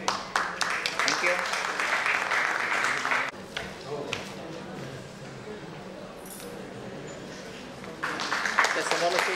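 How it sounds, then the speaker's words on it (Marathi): An audience claps at a student award ceremony, with bursts of dense applause at the start and again near the end, a quieter stretch between, and talk mixed in. "मित्रांनो, टाळ्या थांबल्या नाही पाहिजे."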